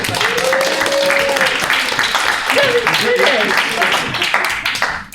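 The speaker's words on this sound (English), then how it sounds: "let's give a round of applause" Round of applause from the crowd at a GSA general meeting, dense clapping filling the room for about five seconds with voices and a few shouts mixed in, fading out at the end.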